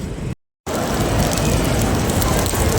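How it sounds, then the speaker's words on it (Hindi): Rain falling steadily outdoors near the Petronas Twin Towers in Malaysia, a dense, loud, continuous hiss after a brief moment of silence, with no talking. "जिस चीज़ का डर था वही हो गया, बारिश हो गई"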